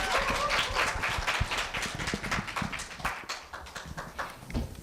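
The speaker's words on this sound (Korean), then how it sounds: "다시 한번 큰 박수 부탁드립니다." An audience claps for a middle-school student speaker at a school speaking festival, with brisk, dense clapping that starts strong and gradually thins and softens toward the end.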